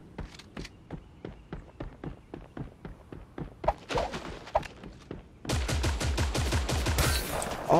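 Gunfire in the video game Creative Destruction, starting as a sequence of separate sharp shots in a steady rhythm and then changing to a dense, loud burst of rapid automatic fire near the end, with no talking over it.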